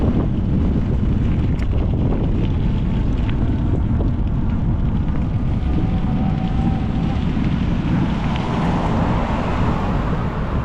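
Steady, loud warm spring wind buffeting the microphone at a near-empty outdoor market in Poltava, a continuous low roar with a faint distant hum beneath it, no speech.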